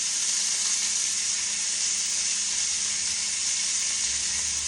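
Beef sizzling in a hot pan: a steady, bright, hissing crackle of frying, close and even throughout, with no talking.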